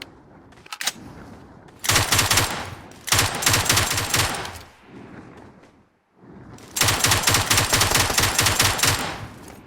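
Automatic rifle fire from an MK47 Mutant in PUBG Mobile comes in three loud, close, rapid bursts separated by short quiet gaps.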